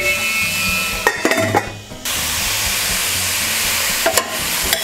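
Mushroom pasta ingredients being stirred in a pan, giving a steady close hiss and sizzle with a few brief clinks of a utensil against the pan.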